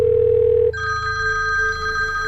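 A payphone ringing, a loud electronic trill that follows an earlier steady tone, sharp and close with no voices.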